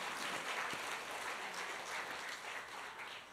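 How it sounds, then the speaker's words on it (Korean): Church congregation applauding during a Sunday worship service, a continuous, even wash of clapping from a large room, soft and somewhat distant, holding steady with no talk over it. "우리 주님께 감사와 영광의 박수를 올려드립니다"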